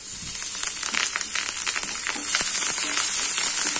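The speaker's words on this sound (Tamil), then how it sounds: "இந்த வெங்காயம் லைட்டாக கொஞ்சம் வதங்கட்டும்" Onions sautéing in oil in a pan for toor dal sambar with green chillies, asafoetida and curry leaves: a steady, close sizzle with fine crackles and pops throughout.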